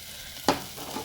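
Chopped tendli (ivy gourd) tipped into hot oil in a home kitchen gives one sharp sizzling burst that quickly settles into a quiet, steady frying hiss.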